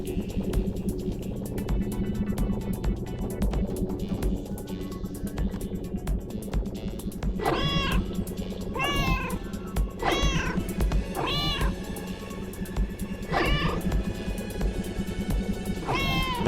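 In a cute cat video game, a cat meows again and again, five or six clear rising calls spaced a second or two apart over a steady background of game music.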